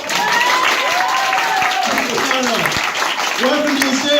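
A comedy club audience applauds and cheers loudly as a comedian comes on, dense clapping mixed with whoops and voices calling out throughout.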